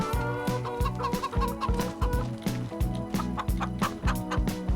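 Chickens in Farming Simulator 25 cluck loudly and close by in a steady, repeating rhythm of short bursts, with no talking over them.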